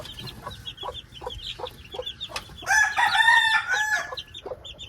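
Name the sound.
rooster crowing and chickens clucking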